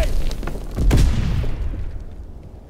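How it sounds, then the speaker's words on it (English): A stun grenade bursting in a Call of Duty: WWII match, one close, heavy boom with a sharp crack that rings out and fades over a couple of seconds. "Throwing stun grenade!"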